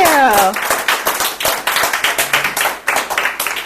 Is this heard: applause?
yes